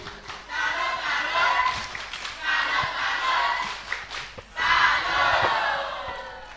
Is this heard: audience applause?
yes